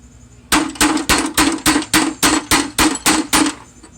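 Metal hammer blows strike a punch against the brake of a Murray 17.5 hp riding tractor, about eleven sharp, evenly spaced impacts in quick rhythm over three seconds, close and loud with no talk.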